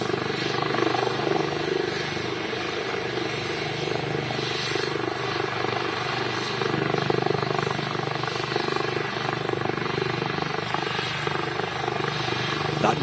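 At Manchester Airport, a helicopter taxis with its rotors spinning, giving off a steady, full-bodied whir and engine drone that stays close and even in level throughout.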